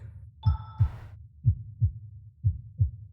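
A heartbeat sound effect from the rhythm video game Lover's Enigma thumps in paired beats, about three double pulses, low and distinct against silence, with a brief chime tone near the start.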